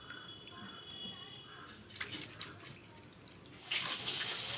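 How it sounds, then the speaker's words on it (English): Fish washed in water in a village kitchen, with splashing, trickling and sloshing close by that grows louder and busier toward the end. "I have washed the fish."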